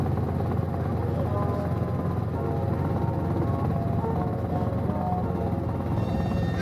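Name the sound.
helicopter in flight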